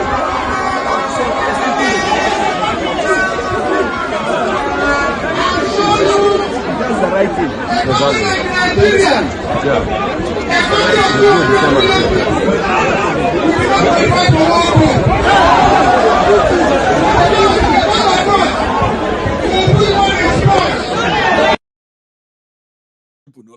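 Dense crowd chatter fills a political rally gathering in Akure, a steady, loud babble of many overlapping voices, with a few people speaking up close before it cuts off near the end.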